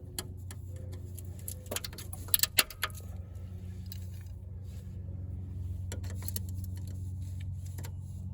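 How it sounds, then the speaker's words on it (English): Plastic clips on a 2003 4Runner splash guard being pried loose with a small clip tool, giving a few sharp clicks and rattles mid-clip over a steady low background hum. "I'm gonna see if I can pull these clips with the little tool here"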